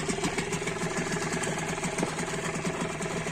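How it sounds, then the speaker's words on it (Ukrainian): A Mercury 5 two-stroke outboard boat motor runs close by, a continuous, even buzzing drone with a rapid pulsing rhythm and no speech. "Заводиться кожен раз легесенько з першого разу як для двохтактного досить тихо працює."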